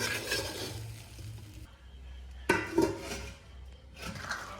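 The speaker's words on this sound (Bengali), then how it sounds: "একটু ভালো করে মিশিয়ে নেব।" A utensil stirs and mixes pulao in a pot, with soft scraping, a couple of distinct clanks against the metal, and a quiet kitchen background between movements.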